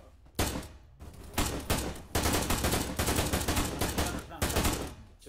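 Bursts from a .50-calibre machine gun mounted on a jeep in the ArmA 3 combat game, several loud rapid volleys separated by short pauses, with faint talk mixed in.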